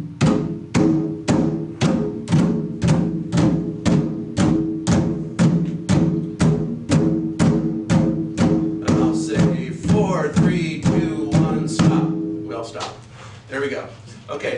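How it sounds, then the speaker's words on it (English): Hand drum slapped near the edge of the head in a drum circle, a steady fast run of bright, evenly spaced close strikes for about twelve seconds before they stop and a voice begins. "We're gonna use that by hitting right here on the edge of the drum"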